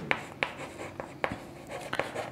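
Pen or chalk strokes writing numbers by hand during a Bengali class 6 math lesson on HCF and LCM, a handful of short scratchy taps spaced irregularly, faint and close with no talking.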